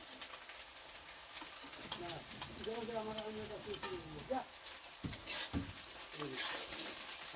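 Onions sautéing in hot oil in a home kitchen, a soft steady sizzle with occasional stirring scrapes, quiet and close, with a few faint background sounds.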